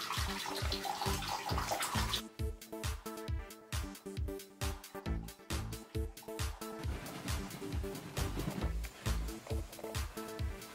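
Tap water runs into a bathroom sink while hair is washed, a continuous close splashing stream broken by uneven gurgles and pulses as the head moves under it.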